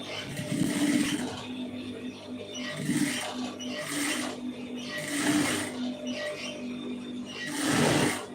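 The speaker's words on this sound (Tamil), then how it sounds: "அதை வந்து இதில் வச்சு அப்படியே தைச்சிடலாம்." A sewing machine stitching a quarter-inch folded hem on a plain blouse, its mechanism whirring and clicking in several short bursts with pauses between, moderately close and without talk.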